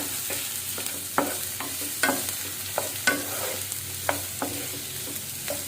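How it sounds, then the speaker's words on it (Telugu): Cumin seeds and curry leaves fry in a pan, a steady close sizzle punctuated by sharp clicks of a spoon stirring against the pan about once a second. "కొంచెం జీలకర్ర కొంచెం కరివేపాకు సో ఇవన్నీ మంచిగా ఫ్రై మంచిగా కుక్ కావాలన్నమాట"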